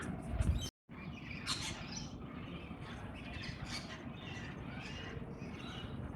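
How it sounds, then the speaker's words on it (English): Wild birds chirping and squawking at a garden feeder, scattered faint calls over steady outdoor background noise after a brief handling knock at the start. "And the birds are just coming."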